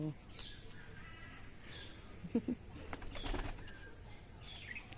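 Brief bursts of wing flapping as pigeons take off, over a steady background hiss with faint voices nearby.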